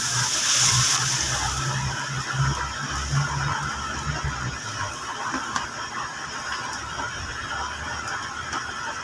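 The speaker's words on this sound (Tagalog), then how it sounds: "And then lalagyan na natin ng tubig na mainit. Mainit na yung galing sa thermos." Hot water from a thermos pours into a cooking pot for a vegetable stew, giving a steady, soft rushing splash that runs for several seconds at a fairly low level.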